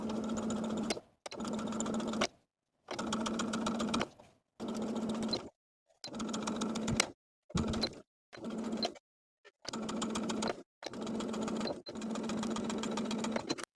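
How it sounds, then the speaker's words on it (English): Sewing machine understitching a facing to its seam allowance, running in about ten steady bursts separated by short pauses, close and clear with no talking. "Sew the facing to the seam allowance about 1/8 of an inch away from the original stitching line."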